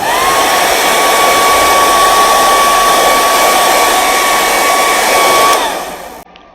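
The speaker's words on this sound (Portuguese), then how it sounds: "nós vamos secar com o secador." A hair dryer blows steadily to dry painted red-country dots on a decorative wooden box, a constant close whine with a clear tone that holds for several seconds, then switches off and fades to near silence.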